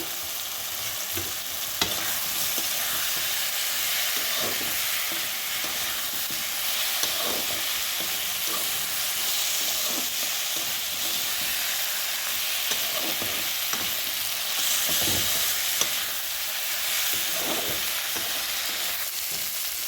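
Stalks and softened tomato frying together in a pan, stirred in a steady rhythm; a continuous close sizzle carries throughout with repeated soft scraping strokes, and no one speaks.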